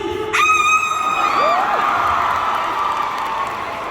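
A concert audience at a light festival in Incheon shouts and cheers loudly. The sound is a sustained, high-pitched crowd roar with excited whoops and screams that rise at the start and carry on at full volume.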